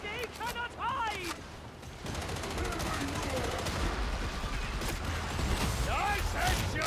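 Rapid bursts of video game gunfire crackle in quick clusters, loud and close, mixed with shouting voices and clanking mechanical effects in a busy battle scene.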